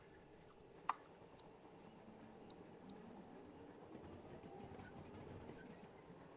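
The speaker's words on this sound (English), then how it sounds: "That is the train coming back to life." Class 92 electric locomotive traction motors in Train Simulator Classic whine up steadily over a low rumbling hum, with a single sharp click near the start.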